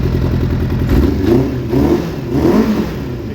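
A Suzuki Bandit 600 motorcycle engine, slightly spluttery after crash repairs, revs up loudly and close in a few rising bursts over a rough idle, with a faint uneven stutter and no voices.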